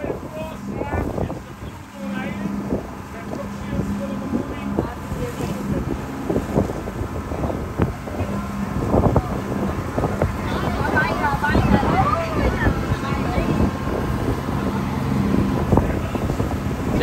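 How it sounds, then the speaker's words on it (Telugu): A motorboat approaches across the open sea off the Bahamas, a steady low engine-and-water rumble heard under strong wind buffeting on the microphone, with faint voices in the background. "ఓయమ్మా ఆ బోట్ చూడు,"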